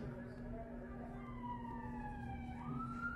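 An ambulance siren wails in traffic at some distance, its pitch gliding down and then jumping back up over a constant rumble of idling vehicles.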